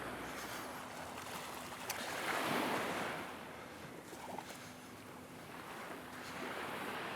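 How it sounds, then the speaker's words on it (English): Warm sea waves wash over bare feet on a Martinique beach, a steady close surf wash that swells and recedes under light wind noise. "I'm just getting my feet wet in the waves"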